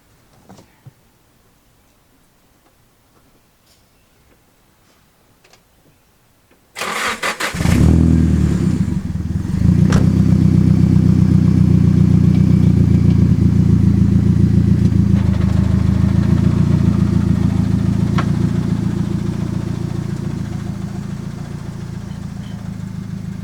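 A Nissan 240SX S14 with an SR20DET engine cranks and fires after a few quiet seconds, then settles into a loud, steady idle that carries on close by and alone.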